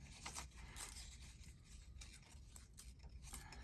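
Paper being torn by hand for filling pockets in a large hinged-page journal: soft, quiet, crackly ripping in short repeated bursts with no voices.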